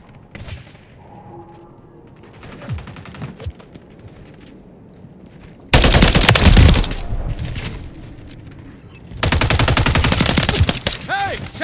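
Bursts of machine gun fire in a shooter video game, sporadic shots at first, then two long, loud, dense automatic bursts up close, with quieter background gunfire between them.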